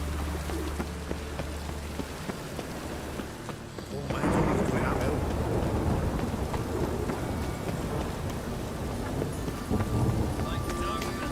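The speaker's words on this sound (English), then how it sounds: "A storm, damn it." A thunderstorm in The Witcher 3 video game: rain pours steadily while thunder rumbles low, the downpour swelling louder partway through, with bird calls and a character's voice over the storm.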